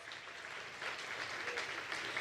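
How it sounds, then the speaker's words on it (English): Audience applause at an awards gala, a soft, steady spatter of many hands clapping at a distance, continuous and fairly faint. "to give him a big round of applause"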